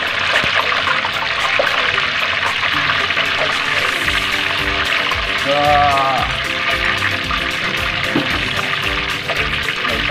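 A whole chicken fries in hot cooking oil with a loud, continuous, dense sizzle and crackle throughout, and a brief voice rises over it midway.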